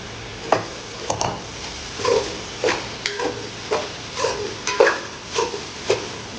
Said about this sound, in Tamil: தக்காளி போட்டு கொஞ்சம் வதக்கிட்டு